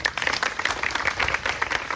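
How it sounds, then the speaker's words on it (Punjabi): At a cleanliness-fortnight school gathering, a crowd claps continuously in a dense, moderately loud burst of applause lasting a couple of seconds. "ਤਾੜੀਆਂ ਮਾਰ ਦਿਓ ਬਈ"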